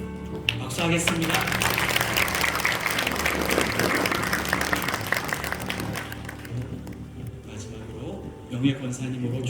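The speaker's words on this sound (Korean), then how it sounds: "박수하겠습니다." A church congregation at an anniversary and ordination thanksgiving service applauds, dense clapping from a crowd that builds, holds for several seconds, then thins and fades out.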